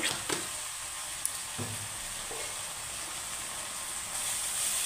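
Ground spices, chilli, turmeric, coriander and cumin powder, frying in hot oil for potato bhujia, giving a steady soft sizzle with a few faint scrapes of stirring, no talk.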